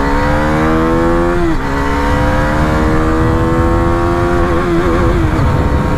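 A Husqvarna Vitpilen motorcycle accelerating hard, its engine note climbing steadily, then dipping briefly at each upshift before rising again, loud and close with no talking.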